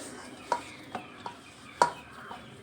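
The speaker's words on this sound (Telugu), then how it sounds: "మొత్తం బాగా కలిపేసుకుందాం." Idiyappam dough is stirred and mixed by hand in a bowl, giving a few sharp scraping clicks and soft pats spaced unevenly, close and moderately loud over a quiet background.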